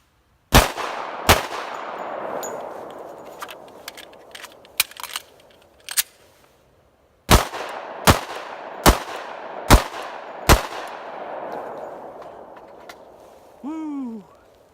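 Glock 29 Gen 4 pistol firing at a target outdoors in snow: two sharp shots, a cluster of quieter clicks, then a pause and a steady string of five loud, evenly spaced shots, each ringing out with a long echoing tail.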